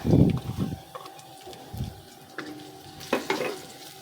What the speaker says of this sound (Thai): ใส่น้ำมันหมูลงไป แล้วก็เอากระเทียมลงไปผัดค่ะ